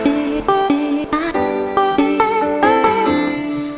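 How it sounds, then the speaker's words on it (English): Chopped vocal snippets, made in Reason, play in a rapid rhythmic sequence, short cut-up sung syllables stepping between pitches over a steady beat. "you can get some pretty sweet vocal cutty effects with this setup."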